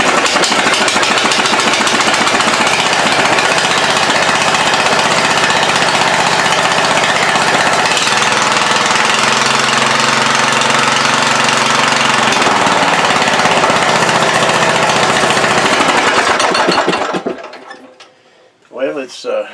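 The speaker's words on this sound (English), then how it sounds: "That rattling noise that we just now heard is because I neglected to tighten up the pulley on the bottom of the motor." A single-cylinder Briggs & Stratton engine, swapped in for a twin, runs loud and close with a rough, chattering rattle from a loose pulley on the bottom of the motor, then cuts off near the end.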